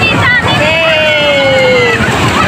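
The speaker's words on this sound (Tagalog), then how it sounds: "ang taas ng alon" High ocean waves at Benmaley beach, Pangasinan, on a crowded New Year outing: a constant loud wash of surf and wind roar with voices chattering close by throughout.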